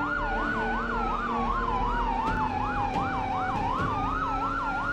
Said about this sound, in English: Let's get a new siren on.